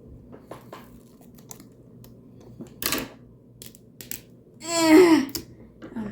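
Strong craft tape, similar to duct tape, is torn and cut with a few sharp clicks and a burst of ripping near the end, close and fairly loud, amid quiet handling sounds.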